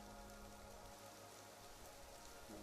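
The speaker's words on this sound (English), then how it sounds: "the gentle rhythm of your breathing and the soft sound of rain" Soft, distant rain falls in a steady, even patter with no other sounds.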